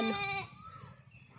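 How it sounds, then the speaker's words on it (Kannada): Several young goats and lambs bleat close by in quick succession, high wavering cries overlapping for a moment before fading into quieter farmyard background. "ನೋಡು ಕುರಿ ಪಾಪು ಮೇಕೆ ಪಾಪು ಎಷ್ಟಿದ್ದಾವೆ"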